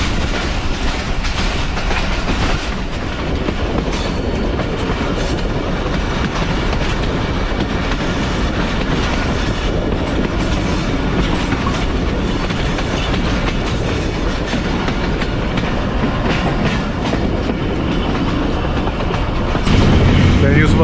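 The Thal Express passenger train runs on the main line in Pakistan, with a loud, continuous rumble and rhythmic clickety-clack of the wheels on the rails heard from inside the carriage.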